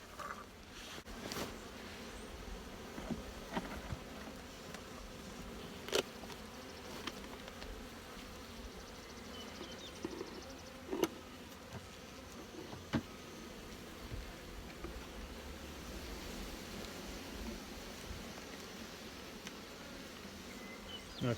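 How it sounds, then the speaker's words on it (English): Honey bees hum and buzz in a hive box opened without smoke, a dense, steady drone that lasts throughout. Occasional clicks and knocks from handling come through, and there is no talk. "Box full of bees."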